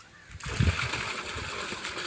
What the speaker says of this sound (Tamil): தண்ணி வாருங்க நல்லா போர்லேருந்து உழுகுது